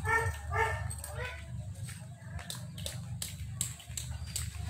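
A dog barks and whimpers on an outdoor walk, with a run of yelping whines at first and then sharper intermittent barks, with people talking throughout.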